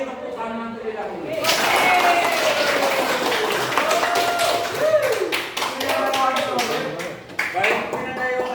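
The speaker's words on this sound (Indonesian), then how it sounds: "Kalau setuju ini kita beri tepuk tangan terlebih dahulu." Hands clap together in a classroom at an Indonesian high school, the dense patter swelling after a short pause and running steadily, with voices talking over the clapping throughout.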